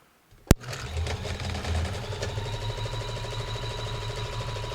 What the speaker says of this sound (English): I picked the domestic sewing machine because this was the machine that needed the most help